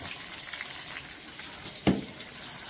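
Spices with turmeric fry faintly in oil for a goat curry, a soft steady hiss broken by a single sharp clink of a utensil.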